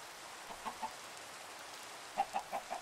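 Chickens clucking in the video game Minecraft, a few soft, brief calls heard in two small clusters, one early and a quicker run of three or four near the end, over quiet background hiss.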